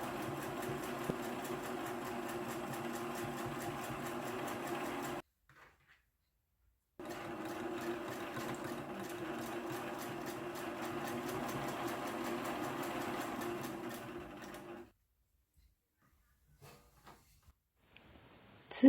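A sewing machine stitches patchwork rectangles onto the sides of a quilt block for a reversible drawstring pouch: two runs of fast, steady mechanical whirring and ticking, each about five to eight seconds, separated by silence, close and moderately quiet.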